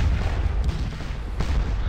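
Distant Napoleonic-era artillery fire rumbles in a Waterloo battle in Scourge of War Waterloo, with a couple of faint booms against a continuous low battlefield roar and no talking.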